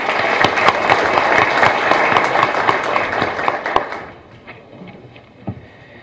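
Strong applause from a conference audience at a keynote lecture on the fight against kidnapping in Mexico, a dense sustained clapping for about four seconds that then fades to a few scattered claps.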